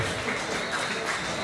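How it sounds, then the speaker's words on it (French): Continuous applause from an audience at an inauguration ceremony for a production studio at Karukéraland in Guadeloupe, steady and fairly faint throughout with no voices. "Mesdames et messieurs, des applaudissements pour Monsieur Philippe Forbin."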